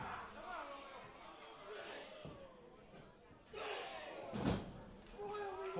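Spinebuster slam in a wrestling video game: a single heavy thud lands amid steady arena crowd noise, while commentators talk over the action.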